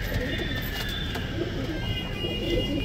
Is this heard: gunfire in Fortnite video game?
no